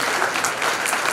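An audience at a theatrical performance bursts into brisk, dense applause, many hands clapping together at a steady level for a brief moment with no voices.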